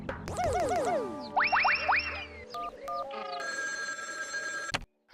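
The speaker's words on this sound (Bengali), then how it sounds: "চল একটু আড়ালে গিয়ে চিমটির মামিকে ফোন করে জানাই।" A telephone rings during a call in an animated Bengali cartoon episode: bright, warbling electronic tones and boing-like chirps, then a steady buzzing ring, loud and close with no talking.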